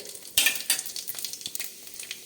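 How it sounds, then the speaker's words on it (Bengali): Bori lentil dumplings frying in hot mustard oil, a close crackling sizzle with a few sharp spatters and scraping stirs, no talking. "প্রথমে বড়িগুলো ভেজে নিচ্ছি তেলটা গরম হয়ে গেছে দিয়ে দিলাম বড়ি"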